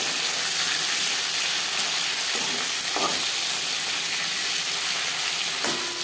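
Hilsa fish pieces shallow-frying in a pan: a steady, even sizzle of hot oil throughout, with a few faint spatters and scrapes, no talk.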